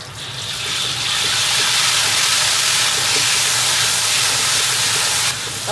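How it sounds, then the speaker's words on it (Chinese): Doubanjiang bean paste fries in a wok of oil with whole ginger, garlic and Sichuan peppercorns, making a loud, continuous hissing sizzle that cuts off abruptly near the end, with no talking. "把豆瓣儿炒香哈"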